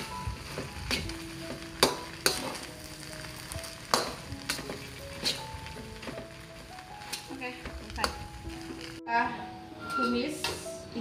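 Panada filling is stir-fried in a pan with a soft sizzle, punctuated by sharp utensil clanks and scrapes against the pan, all over background music.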